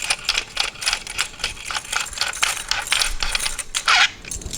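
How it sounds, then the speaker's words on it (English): Metallic clicks and ratcheting rattles rise from the barrel nut of a Steyr MPi 81 submachine gun as it is unscrewed, a dense run of sharp close ticks and clatters with no talk. "unscrew the barrel nut"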